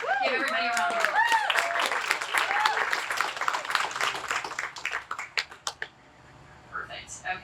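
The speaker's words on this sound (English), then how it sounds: "So give everybody a round of applause." An audience at an art exhibition applauds the artists with dense clapping mixed with cheers, thinning into scattered claps before a brief quiet.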